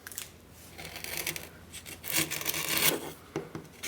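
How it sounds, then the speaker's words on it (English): A carving gouge shaves the wood of an archtop guitar in short, scraping strokes, close and moderately loud, with brief pauses between cuts. "I guess this is probably the gouge I would stick with for this"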